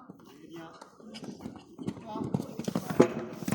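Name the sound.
horse stamping its hooves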